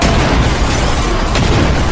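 A man blows himself up in a film scene, a loud, dense explosion roar filling the whole moment with continuous rumbling noise and no break.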